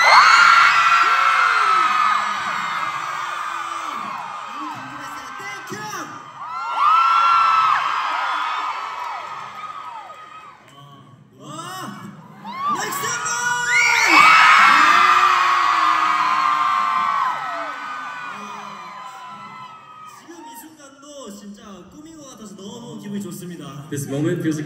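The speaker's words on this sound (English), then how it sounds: "How much can our Chicago Lions scream tonight?" A concert crowd at a show in Chicago screams and cheers loudly in long swelling waves of high-pitched shrieks and yells, dipping briefly before surging again.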